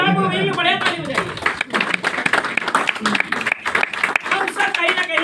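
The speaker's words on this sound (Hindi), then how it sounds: "बढ़िया ताली बजाइए" A live audience claps together in a sustained burst of applause at a Hindi-language motivational talk, loud and dense throughout, with a voice speaking over it at the start.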